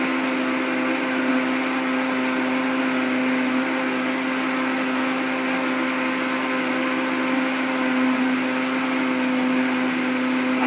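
An electric blender runs steadily, a constant motor whir mixing a beet smoothie with chopped yellow squash, close and loud with no talk over it.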